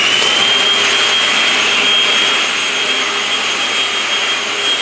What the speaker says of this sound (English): now we can grab the vacuum here again and clean up all of that crap